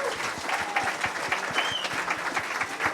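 A church congregation at a Belvedere service claps for the KEA community with full, lively applause, dense overlapping claps and a faint crowd murmur throughout.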